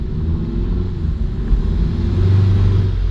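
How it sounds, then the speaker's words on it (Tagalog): Twin-turbo V6 Ford Explorer engine accelerating, a steady close, loud low rumble that rises slightly toward the end, with no talk. "Yung naririnig nyo yan, yung turbo yan, gumagana yung turbo."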